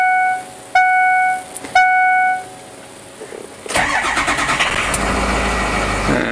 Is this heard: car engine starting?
yes